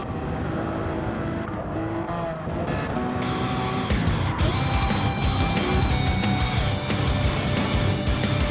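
Race cars in a racing video game threading a chicane, with loud, steady engine whine and revving that shifts pitch as they brake and accelerate through the turns, several cars overlapping close by.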